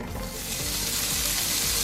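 Meat sizzles loudly and steadily in a hot frying pan with sesame oil, a continuous crackling hiss with no talking.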